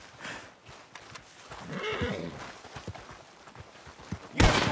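Horse sounds in the video game Red Dead Redemption 2: hooves clopping in an uneven rhythm with a whinny in the middle, followed by a sudden loud burst near the end.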